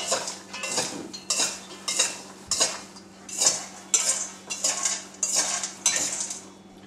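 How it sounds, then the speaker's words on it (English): A butter knife stirring salted popcorn in a metal pot, producing a regular series of scraping, clattering strokes about every half second, close and distinct with no talking. "I'll use a butter knife to mix it up."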